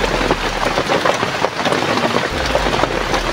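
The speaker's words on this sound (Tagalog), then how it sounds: "Ay, malakas yung ulan eh." Heavy rain pours down outside in a steady, dense hiss with scattered drops striking nearby surfaces, loud and continuous with no voices.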